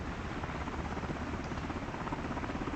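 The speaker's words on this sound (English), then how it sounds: "you'll see when I land that you can see that downwash underneath of the helicopter" Helicopter landing over ground that kicks up dust, with a steady, dense rotor and downwash roar that stays loud and unbroken throughout, no voices.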